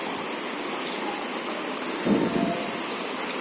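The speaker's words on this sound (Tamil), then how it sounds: "நான் பேசிகிட்டு இருக்க சொல்லி இடி இடிக்குது" Thunder rumbles once over steady heavy rain in Kayalpattinam, a low swelling roll in the middle that fades back into the constant hiss of falling rain.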